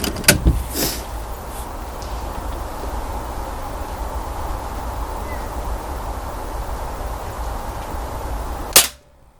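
Beeman 1357 air gun fired while zeroing, a sharp close crack near the start, then a quiet stretch of background hum and a second sharp knock near the end.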